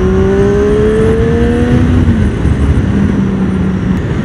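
A Triumph Daytona 675 motorcycle engine pulls hard on the road, its whine climbing in pitch through the gears with brief dips at the shifts, loud and near over rushing wind.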